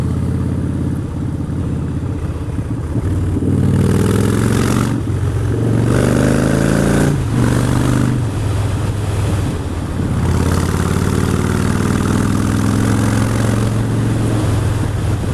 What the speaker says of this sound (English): the pipes resonated between those two stone walls then